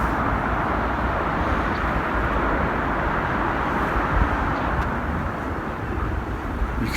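Steady roar of traffic on the A27 road near Portsmouth, a broad continuous rumble heard from a short distance with no talk over it.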